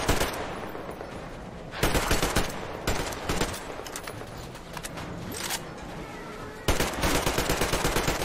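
Rapid gunfire from Metro Exodus rattles in long automatic bursts, with sharper, louder volleys punching through near the start and end over a steady noisy background.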